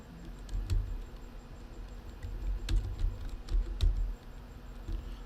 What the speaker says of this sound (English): what you would want to do is type in non-refundable